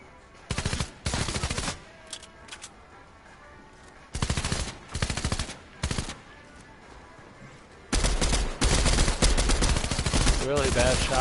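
Rapid automatic gunfire from the video game Fortnite comes in several separate bursts, some short and some longer, with a heavy sustained volley near the end. Quiet gaps fall between the bursts.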